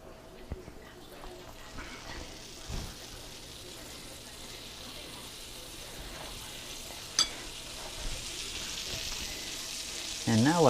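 A full stick of butter melts in a pan, giving a steady, low frying sizzle throughout with a few faint clinks and stirring sounds.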